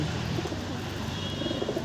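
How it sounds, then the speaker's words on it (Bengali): Giribaz pigeons in a loft in Nadia, West Bengal, coo in a dense, continuous murmur that sounds close and fairly loud. "আর এই একটা পায়রা দেখুন"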